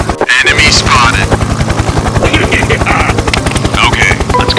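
A voice imitates a helicopter during toy train play, a loud continuous rhythmic chopping buzz with dense pulsing beats throughout, close and steady.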